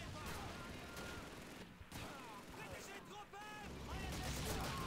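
Rifle fire rattles in Call of Duty 2 as dense, overlapping shots and bursts roll through a steady battle din, with someone talking over the gunfire.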